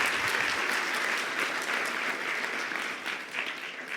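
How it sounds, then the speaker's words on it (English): An audience at a business talk claps in a steady, full round of applause, dense and fairly loud throughout with no speech over it. "Give an applause."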